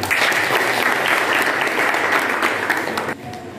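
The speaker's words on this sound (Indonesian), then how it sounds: "Beri tepuk tangan." A class bursts into steady applause after a correct answer during a teaching session, a loud, dense wash of clapping that stops suddenly just before the end.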